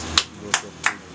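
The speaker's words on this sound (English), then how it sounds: "Let's clap for her." Three separate hand claps at a marriage registry ceremony, sharp and evenly spaced, with quiet room tone between them.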